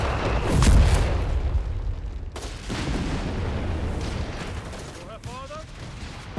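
Grenade blasts and rifle fire in Company of Heroes as Fallschirmjäger fight in bombed-out ditches, a heavy boom early on followed by scattered battle noise and whistling shots, with a commentator talking over it.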